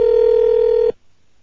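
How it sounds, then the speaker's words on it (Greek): An outgoing phone call gives one loud, steady ringing tone that lasts just under a second and then cuts off abruptly, leaving near silence. "Εγώ λέω να τον πάρουμε ξαφνικό τηλέφωνο."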